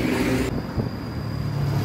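A passing bus roars loudly at first, then the sound abruptly drops to a lower rumble with a thin high whine as it moves on.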